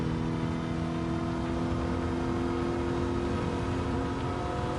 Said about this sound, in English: I can hear the supercharge